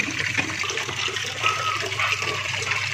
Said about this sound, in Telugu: వేడి నీళ్ళు పోసి కడగాల, ఒకటి రెండు సార్లు కడుక్కోవాలి.